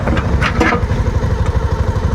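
A motorcycle engine runs close and loud with a rough, pulsing mid-range drone on a rough forest road, and the throttle rises briefly near the start.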